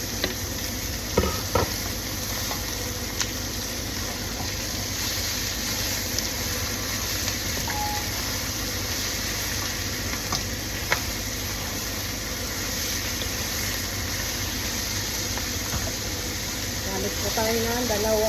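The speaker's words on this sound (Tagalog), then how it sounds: "pagka okay na yung bawang at sibuyas natin, isa natin ang ating pork" Pork added to a pan of sautéed garlic and onion for dinuguan, a steady loud sizzle with occasional scrapes from two ladles stirring, close up throughout.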